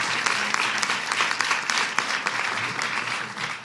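Audience applause at a House Democrats health care press event, a dense steady wash of many hands clapping at moderate distance, continuous for a few seconds with a faint voice beneath.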